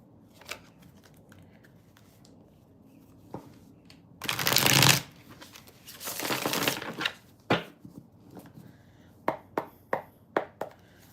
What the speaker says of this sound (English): let me just shuffle a little bit.